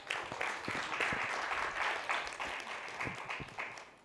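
Audience applause at a panel session on childhood immunization, a steady wash of many hands clapping at moderate distance, sustained for several seconds without talk.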